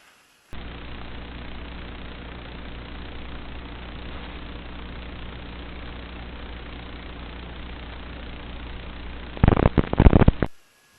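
Small mini hopper model aircraft engine on a slow upwind pass, a steady buzzing drone that stays even for most of the clip, then ends in a burst of loud crackling bumps, like wind hitting the mic.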